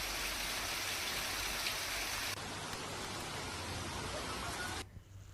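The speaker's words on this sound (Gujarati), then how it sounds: "સુરત શહેરમાં જામ્યો વરસાદી માહોલ" A dense, steady hiss of heavy rain falls in Surat city, loud and unbroken before it cuts away abruptly near the end.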